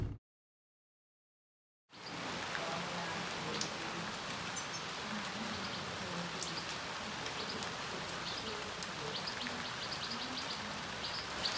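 Steady rain with a bit of hail patters continuously on surfaces outdoors, a dense even hiss with scattered sharper taps, beginning after about two seconds of silence.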